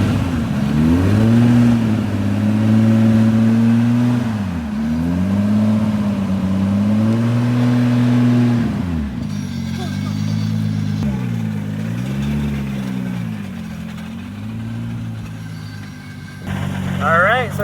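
A Castrol-liveried Toyota Supra driving slowly over a smartwatch, its engine rumbling loud and close with repeated rises and dips in revs, then easing off near the end.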